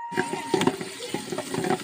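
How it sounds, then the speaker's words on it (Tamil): Small onions sauté in oil in a pan for Tamil fish kuzhambu, with a close, continuous sizzle and the clatter of stirring under light background music. "கூடவே 1 கப் அளவுக்கு சின்ன வெங்காயத்தை சேர்த்துட்டு நல்லா வதக்கிக்கோங்க."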